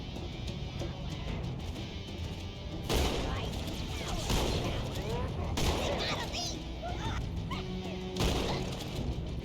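Heavy shotgun blasts and other weapon fire go off in Halo, several loud booming shots spaced a few seconds apart over a busy battle din, with voices talking beneath.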